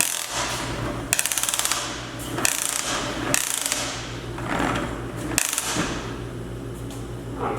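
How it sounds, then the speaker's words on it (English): A ratcheting extension cord reel in a shop clicks in several quick rattling runs of ratchet-pawl ticks, close and crisp, between softer handling and cord rustle. "We got a ratcheting extension cord, which I've always wanted."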